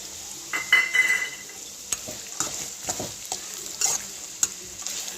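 Onions frying in a pan with cinnamon and bay leaf for jeera rice, a close, steady sizzle punctuated by repeated spatula scrapes and clinks against the pan.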